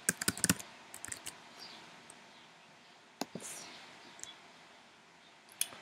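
Quiet close-up typing of an email and password on a computer keyboard, with a quick flurry of clicky keystrokes at first, then sparse, scattered key taps with pauses between them.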